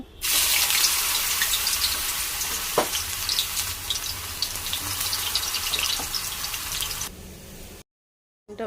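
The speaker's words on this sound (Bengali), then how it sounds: "এবার সোয়ানটিকে ভেজে নেব" Soya chunks frying in hot oil for chilli chicken, a dense, continuous hissing sizzle close by with scattered pops and crackles, fading slightly toward the end before a sudden silence.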